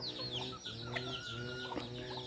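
Hens clucking steadily, several overlapping calls blending into a busy, close barnyard chatter with no pauses.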